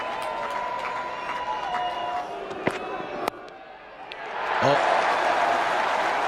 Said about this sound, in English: Every shot now greeted with a huge roar from the Pakistan contingent in the crowd.